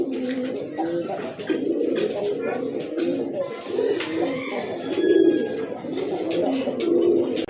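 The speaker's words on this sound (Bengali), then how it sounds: "এই যে দেখেন জোড়াটা কিন্তু মাশাআল্লাহ খুবই ভালো ডাকে, অনেক ডাকে" Several Lal Raj Golla pigeons coo repeatedly nearby on a pigeon farm in soft, throaty rolling calls, overlapping continuously in a busy enclosure.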